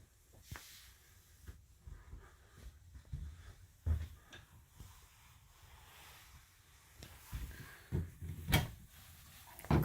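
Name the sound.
RV storage drawers with slow close feature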